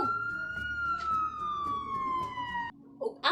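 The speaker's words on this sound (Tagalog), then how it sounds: "Ang tingog sa bumbero nagpasabot nga naay" A fire truck siren wails loud and near in a long, slowly falling tone, then cuts off abruptly, leaving only faint background noise with a couple of brief knocks at the end.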